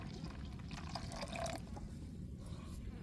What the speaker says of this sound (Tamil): இப்போ தண்ணி சேர்த்துக்கிடுவோம்